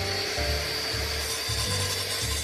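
A power tool grinds through a road surface to cut a trench, giving a loud, continuous abrasive roar with a regular, throbbing low pulse about twice a second.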